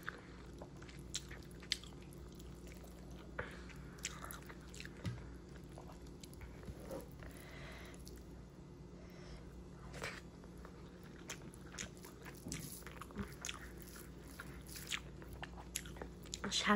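Someone eats fried tilapia fish with eggplant bhorta, giving quiet, scattered bites and soft chewing and squishing sounds close up over a faint steady background.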